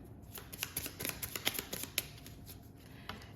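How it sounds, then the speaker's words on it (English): A deck of oracle cards is shuffled close by, a quiet run of rapid riffling and flicking with soft irregular taps and no voices. "let's pull some oracle cards too"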